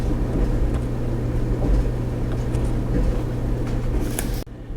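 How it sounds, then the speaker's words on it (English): A steady, low mechanical rumble hums on without pause, like a clothes dryer running nearby, then cuts off abruptly near the end. "if you hear the rumbling noise in the background, that is the dryer."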